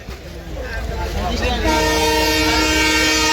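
A train rolls in near a village market with a loud sustained horn blast joining the rumble partway through, close and steady, while people talk underneath.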